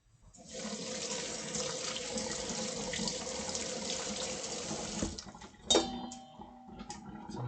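Water runs steadily from a kitchen tap while food is washed for cooking, a constant rush lasting about five seconds before it shuts off, followed by a few light clinks and handling sounds.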